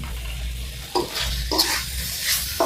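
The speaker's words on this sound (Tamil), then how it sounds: "இது அப்படியே போட்டு கலந்து விட்டுருங்க" Dry chicken chinthamani sizzles in a pan as black pepper is stirred in, a steady close frying hiss broken by repeated scraping strokes of the spoon.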